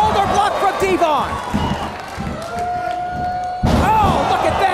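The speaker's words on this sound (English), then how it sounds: "Big shoulder block from Devon." A wrestler's shoulder block slams into an opponent in an indoor ring, giving a loud thudding impact. Crowd noise swells around it and a commentator talks over it.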